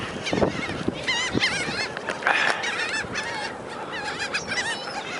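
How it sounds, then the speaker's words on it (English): Repeated honking, squawking calls from seagulls, several birds overlapping in quick bursts against a noisy outdoor background, moderately close. "Seagull."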